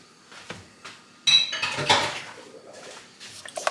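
Cake batter for a Dundee cake, with three eggs just added, is mixed in a bowl: scattered clinks and scrapes of utensil against the bowl, with a louder burst of knocking and clattering in the middle, close by.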